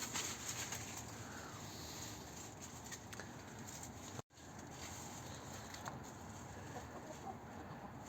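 Chickens feeding on freshly cut oat cover crop, soft scattered clucks and pecking patter over a quiet outdoor background, with a brief dropout midway.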